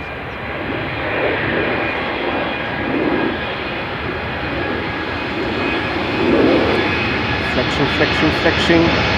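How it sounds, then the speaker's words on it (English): United Airlines Boeing 787-8 Dreamliner, eleven years old, departing Amsterdam Schiphol: a loud, steady jet engine roar that swells near the end, with a voice talking over it. "Next we have United Airlines flight 947 going to Washington. 7878 Dreamliner"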